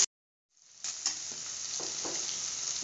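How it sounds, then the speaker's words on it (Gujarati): Pieces for sabudana khichdi sizzling and frying in a hot pan, a sudden loud hiss that settles into a steady sizzle with a few stirring clatters. "આને ખાલી આપણે 2 મિનિટ માટે શેકવાના છે, એટલે થોડા શેકાઈ જાય એમ."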